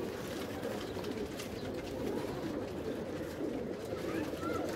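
Domestic pigeons in a loft, including blue English pigeons, cooing in a dense, continuous chorus close by, with a voice talking over the birds.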